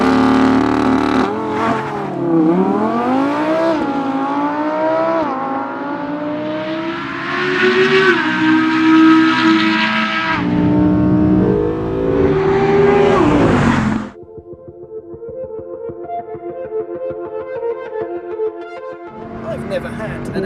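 An Audi R8 V10 Plus screams through repeated high revs in a drag race, the V10 pitch climbing and dropping with each gear change, very loud and close, then falling back to a quieter, buzzing engine note.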